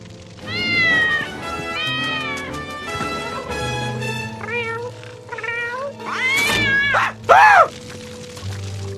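A cartoon cat from The Simpsons meows several times over background music, with long wavering cries that grow louder and more strained toward the end.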